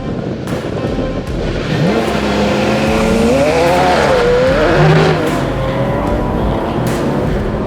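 A race car engine roars and revs up loudly as a Ferrari SF90 or McLaren Senna launches off the line on a test track, pitch climbing as it accelerates hard, with a constant rumble of engine and road noise throughout.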